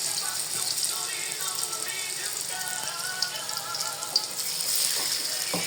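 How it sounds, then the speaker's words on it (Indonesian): Tofu fries in hot oil while cooking sambal goreng tahu tempe, a steady crackling sizzle with fine popping that continues evenly throughout. "ini proses goreng tahunya"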